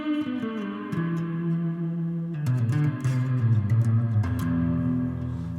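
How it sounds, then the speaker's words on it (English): An electric guitar through an Axe FX III with a rotary effect plays sustained chords with a swirling, warbling modulation and slight distortion, notes changing every second or so. "If you turn on the rotary, it's really nice."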